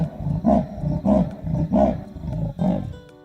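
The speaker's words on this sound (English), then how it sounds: "Leopards, for example, make this noise" A leopard gives a rasping sawing call, a series of about five rhythmic hoarse grunts evenly spaced, loud and close with nothing else heard.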